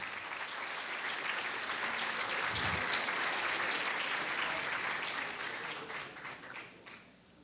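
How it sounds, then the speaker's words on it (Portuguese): An audience at an award ceremony gives a sustained round of applause, dense steady clapping that holds for several seconds before thinning and fading out at the end. "Mais uma vez, uma salva de palmas ao Tiago de Paula."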